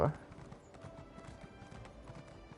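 A fire horse mount in a game clip-clops at a steady walking pace, the hoof falls light and regular, with a voice briefly heard at the start.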